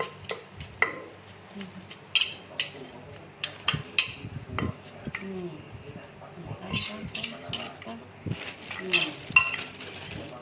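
Green papaya salad (som tam) being pounded in a mortar: irregular close thuds and sharp clinks of pestle and utensils, with faint voices in the background.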